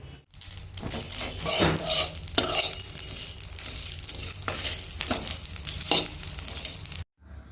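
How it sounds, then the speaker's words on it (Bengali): Black pepper, cloves and cinnamon sticks dry roast in an oil-free pan. The whole spices rattle and scrape against the metal in repeated bursts of stirring, close and fairly loud, with a light sizzle beneath. "এবার এই সব কটাকে শুকনো খোলায় ভেজে নেব"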